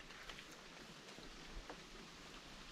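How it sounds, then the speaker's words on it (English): Rain falling steadily on a river during a fishing outing, a soft continuous hiss of drops on water with faint patter, no voices. "It's been raining for like 3 hours."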